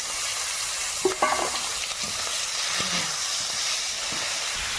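Garlic and chopped onion lightly frying in oil with cumin and bay leaf, a continuous hissing sizzle with a few brief clinks and utensil knocks near the pan.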